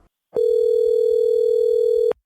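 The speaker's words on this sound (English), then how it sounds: "let's give him a call right now" A steady telephone dial tone plays on a phone line while a podcast host places a call to a guest. It runs unbroken for nearly two seconds at an even, moderately loud level and then cuts off cleanly.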